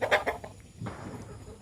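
Fighting rooster and hens cluck in a short, faint burst of quick, clipped calls, followed by soft scratching and shuffling from the nearby flock.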